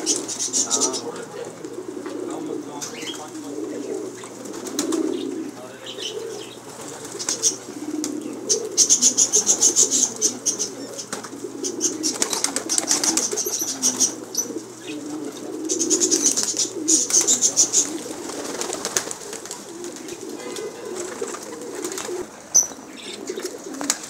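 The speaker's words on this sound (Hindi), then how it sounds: "आज हम आपको कैसर भाई के फैंसी कबूतर दिखा रहे हैं" Fancy pigeons kept by a fancier cooing in soft repeated throaty bursts, with occasional wing flaps and background chirps, while someone talks over them.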